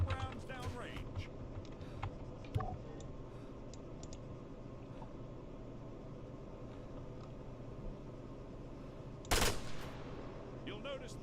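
Rifle fire in the military shooter ARMA III comes mostly as one sharp, loud burst late on, with a fainter earlier crack. The shots sit over a constant background rumble of game ambience.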